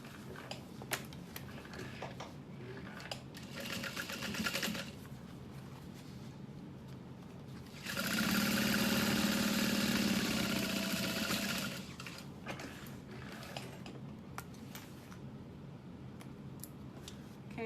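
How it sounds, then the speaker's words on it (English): A sewing machine top stitches a wallet closed, running close and steady in short bursts and then one longer, louder run of even mechanical whirring with a faint ticking. "I also want to top stitch here because that's going to drive me nuts. So let's go ahead and sew this closed."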